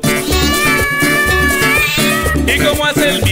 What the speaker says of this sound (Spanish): ¿Cómo chilla el gato?